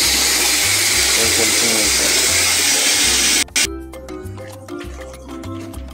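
A bucket fills with tap water, a loud, dense rushing gush that cuts off abruptly partway through, leaving a quieter room where a person speaks briefly.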